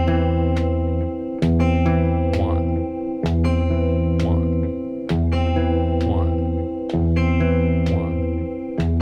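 An electric guitar repeats a riff on low notes, a sharp attack starting each of several even cycles, played clean and close with no talking.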